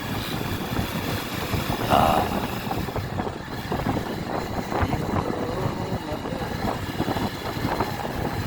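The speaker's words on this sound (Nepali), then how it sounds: "अब यो माइक्रोले फेरि ओभरट्याक गर्न खोजिरहेको" Steady engine drone of a vehicle on the road with passing traffic noise, a constant loud rumble throughout.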